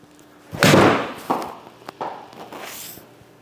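A golf ball struck by a club at an indoor setup with launch monitors: one sharp, loud impact near the start, followed by a few softer thuds and knocks.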